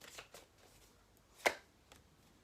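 Chuck Spezzano love cards being shuffled, with faint soft riffling and one sharper flick of the deck midway, quiet and close with no talking.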